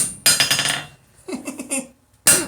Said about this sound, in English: John Palange, I'm using a small ball peen hammer right now while the tendonitis cools down